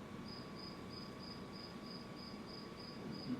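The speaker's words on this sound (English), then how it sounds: "You all know this common field cricket." A common field cricket chirps in a steady, evenly spaced series of short, high pulses over a faint constant hum, recorded alone with no talk.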